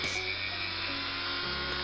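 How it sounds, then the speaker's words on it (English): A small electric drill bores into the rear of a Corgi diecast model, a close, steady high-pitched motor whine with a slight pitch drop near the end. "Here I'm just drilling the rear"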